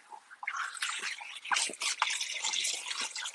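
Fruit for a smoothie is rinsed under running water, with irregular splashes, drips and handling sounds, close and bright, with no talking.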